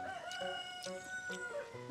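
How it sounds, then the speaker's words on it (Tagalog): A rooster crows outdoors at a farmyard in Cebu, Philippines, with chickens nearby; the calls repeat in short rising bursts over a steady, busy background. "Naman sa mga manok."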